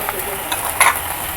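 Green banana and prawns fry in a pan with turmeric and chilli powder, a continuous soft sizzle with a few stirring scrapes and one sharper clink.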